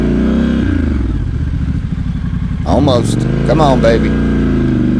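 Scrambler motorcycle on a muddy national forest road revving hard to climb out of red clay mud, a loud close engine drone rising in bursts, with someone speaking briefly over it.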